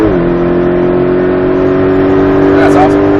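Porsche Cayman engine on a track holds a steady, loud drone after a brief dip in pitch, with an instructor talking over it inside the car.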